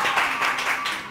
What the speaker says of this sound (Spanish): Un aplauso para las chicas, ¿ah?